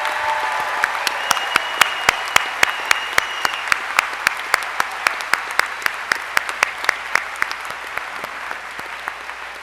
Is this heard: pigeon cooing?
no